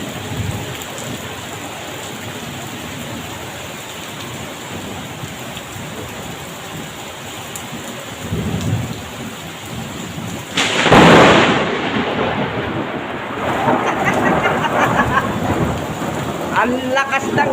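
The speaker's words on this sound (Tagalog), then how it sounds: "Grabe ang ulan, no?" Heavy rain pours steadily through a thunderstorm, with a loud crack and rumble of thunder breaking out partway through before the downpour carries on strong.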